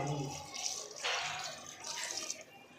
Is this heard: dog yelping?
no